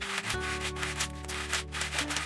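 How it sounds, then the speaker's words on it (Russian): A sanding block loaded with 120-180 grit abrasive rubs back and forth across wooden lining boards for a bed headboard, producing steady, close, rhythmic scraping strokes over a faint tonal hum. "шлифовальным бруском с абразивом 120-180 довожу до конечного результата"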